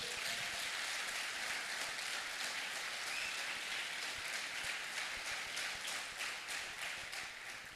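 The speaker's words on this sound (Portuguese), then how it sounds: "aplauda Jesus bem forte" A church congregation bursts into loud, sustained applause, dense clapping filling the room for several seconds and easing slightly toward the end.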